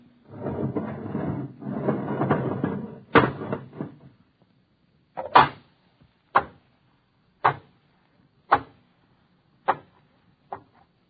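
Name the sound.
rocket bunker airlock inner door opening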